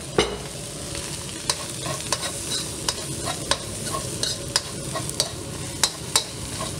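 Cantonese fried rice tossed in a wok over a high flame with soy sauce added, a steady loud sizzle broken by sharp, regular clanks of the spatula against the pan, with no talking.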